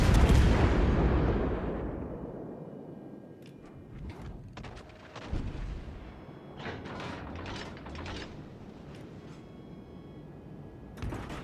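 Naval gunfire from the German cruiser Hindenburg in World of Warships Legends, a loud opening blast decaying into rumble, followed by scattered distant shell impacts and booms across the clip.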